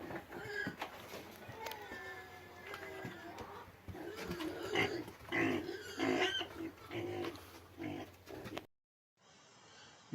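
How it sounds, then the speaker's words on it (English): Pigs and piglets on a farm, grunting and squealing in a busy, close mix of overlapping calls and snorts, with a sow among the young ones, then a brief drop to quieter background at the end. "Here's one of the little piglets. Here's Mama Pig."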